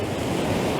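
Ocean waves crash onto rocks on the Causeway Coast of Ireland, a dense, loud wash of surf and spray with wind noise and no voices.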